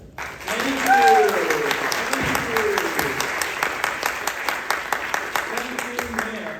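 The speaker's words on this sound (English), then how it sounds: "Let's give a big round of applause to Senator Ron Wyden's 1090th town hall." A town hall audience at a community college, gathered for a meeting with Senator Ron Wyden, breaks into loud, sustained applause with many hands clapping at once, while voices call and talk over it.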